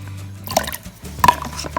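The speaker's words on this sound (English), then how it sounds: "Let's pour the water." Water is poured for a toy doll's bath, with brief splashing and dripping sounds, close and fairly loud, over a low hum.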